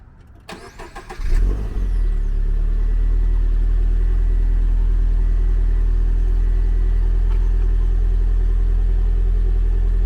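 A Subaru BRZ engine cranks and catches after a brief rattle, then settles into a loud, steady low idle through a new aftermarket exhaust that continues unchanged.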